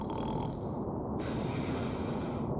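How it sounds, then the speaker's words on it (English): Snoring from a sleeping man in a sitcom scene, a slow, rough, breathy rasp that fills the short span at a close but soft level, with no talking over it. "The scutter listens and is rewarded by a Listerian snore."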